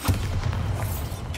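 A Bombarda blasting spell going off in Hogwarts Legacy: a single heavy booming explosion with a deep rumbling low end that decays over about a second.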